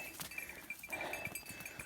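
Goats moving along a path in a rural setting, with faint scattered bleats and soft shuffling hoof noise at a distance, set in a steady low outdoor background.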